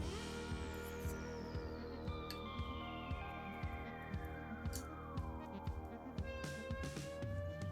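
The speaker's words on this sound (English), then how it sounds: "Dump trucks are loud." A dump truck's steady low engine rumble with a rhythmic throbbing idle, continuous throughout, heard from a distance through walls.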